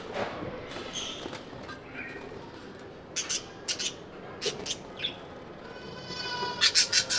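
Pet birds on a home balcony squabbling and calling, with sharp chirps and squawks in scattered bursts that grow busier toward the end, over a soft, noisy background.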